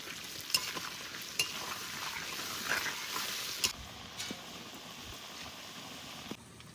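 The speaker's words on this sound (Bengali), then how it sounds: "আলুগুলো সুন্দর করে ভেজে নিয়েছি, এবার তুলে নেব।" Potatoes frying in oil in a home kitchen pan, a steady soft sizzle with occasional clicks and scrapes of stirring, heard close and fairly quiet with no talking.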